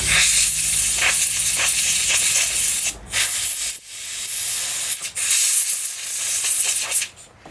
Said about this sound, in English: Just going to hit it with some brake clean. A little bit of compressed air.